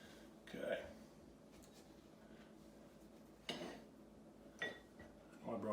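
A spoon clinking against a dish while mixing New England style baked beans, three or four short, close metallic taps spaced apart over a quiet room background.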